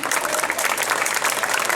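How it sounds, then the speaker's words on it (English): A protest crowd in London claps together, a dense, even wash of applause that fills the short moment without any voices over it. "Can I hear some clapping, please?"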